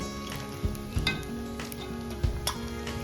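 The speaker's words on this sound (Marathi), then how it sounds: "तर हे आता आपलं पनीर तळून झालं आहे त्याला आता आपण काढून घेऊ" Fried paneer sizzling in hot oil as it is lifted out of the pan: a constant crackling fry with several soft clinks and scrapes of a utensil.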